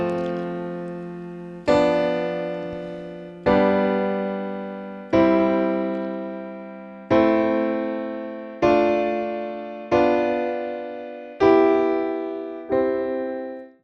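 Piano chords played on the white keys in a pleasing progression, the bottom note rising while the top two notes shift; eight sustained chords struck at a steady, unhurried pace, each ringing out and fading before the next, with no talk.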